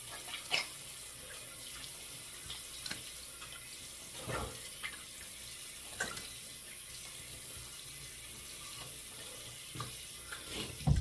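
Tap water running to rinse a Bic Easy Rinse razor during a face shave, a soft steady splashing hiss under a sink, with a few faint clicks and knocks as the razor is rinsed.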